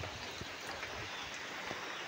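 Steady rain falls outdoors around a rural yard with mango and papaya trees, making a continuous close hiss with scattered soft drop patters and no voices.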